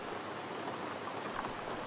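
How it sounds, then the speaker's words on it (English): Steady rain in the survival shooter Road to Vostok pours as a dense, even hiss with no pauses, unbroken by talk or other sounds. "The rain doesn't look great."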